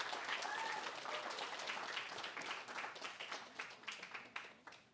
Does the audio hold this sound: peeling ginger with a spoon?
no